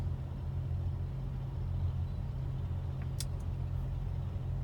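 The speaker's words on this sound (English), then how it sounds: "So these two trucks are coming in." Trucks roll into a sand offloading site, a low, steady engine rumble at moderate distance with a brief high hiss partway through, no voices.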